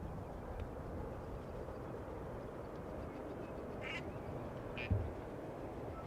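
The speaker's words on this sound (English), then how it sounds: "Hey, Quacker's doing a flyby." A duck quacks as it flies past at Amsterdam Schiphol Airport, a few short distant quacks over a steady rumble of wind and background noise.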